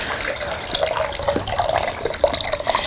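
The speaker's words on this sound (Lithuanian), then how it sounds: "pirmą dešinė, tada kairė rankos keliauja į vandenį" Hands dipped into a basin of water for a Kneipp arm bath, right then left, giving close, continuous gentle sloshing and dripping with small splashes throughout.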